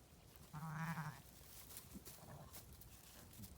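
Baby lambs bleat once, close and clear, in a single drawn-out cry on a snowy farm morning, followed by quiet rustling and faint shuffling.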